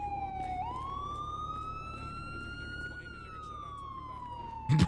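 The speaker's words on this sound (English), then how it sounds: "Oh, shut these fucking sirens off, please." A video game police siren wails with a long rising-then-falling tone throughout, loud and continuous, with a low rumble beneath and a brief thump at the end.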